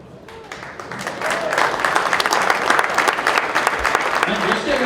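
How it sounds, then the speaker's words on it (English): Banquet crowd at a turkey hunt fundraiser and auction breaking into applause that swells from light clapping into full, dense applause, with a voice audible underneath. "Let's give them another round of applause for donating this fine shooting system."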